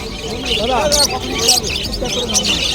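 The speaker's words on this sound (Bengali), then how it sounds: "এদিকেও দেখো পাখি আছে খুব সুন্দর দেখো পাখি আছে" Small birds chirp and tweet in short bursts amid a busy pet bird market in Ankurhati, with people talking nearby throughout.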